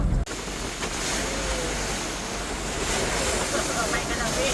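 A small outrigger boat out on the sea during an island-hopping tour around El Nido, with a steady roar of wind and waves buffeting the microphone, loud and continuous throughout.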